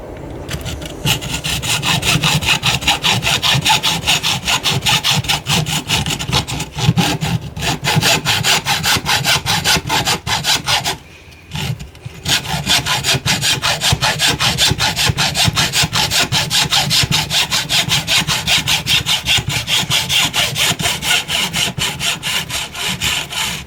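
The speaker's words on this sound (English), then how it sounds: "if I were to hacksaw that straight through that" A hacksaw cuts through a LiFePO e-bike battery in steady, rapid back-and-forth strokes, loud and close, pausing briefly midway before resuming.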